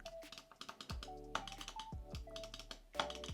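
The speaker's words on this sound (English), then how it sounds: "That is some very aesthetically pleasing clicking sounds" Rapid clicks from a Razer Pokémon edition gaming mouse, the buttons pressed in quick irregular bursts at close range with a few heavier taps mixed in.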